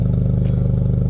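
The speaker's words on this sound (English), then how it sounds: "Yeah, man, you gotta give it a rev." A car engine fitted with a 1.5 setup and an MA Performance downpipe idles and revs in a loud, close, steady drone with a low pulsing rumble, heard alone without talk.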